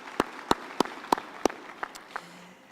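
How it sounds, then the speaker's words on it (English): Scattered handclaps from a small audience at a university graduation ceremony, about seven separate claps spaced irregularly, fairly quiet and alone without talk. "I think we should give a hand of applause."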